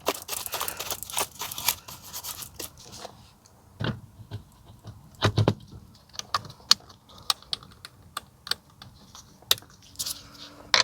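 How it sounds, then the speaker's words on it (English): A BMW steering wheel is refitted by hand, giving close, sharp clicks, taps and rattles of plastic and metal parts and a nut, in irregular bursts separated by quiet pauses. "now I can put back the steering wheel"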